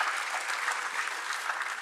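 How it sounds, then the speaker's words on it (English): An audience at an opening ceremony in New Delhi claps for a president, a short, dense burst of steady applause with no pause. "Clapping for our president"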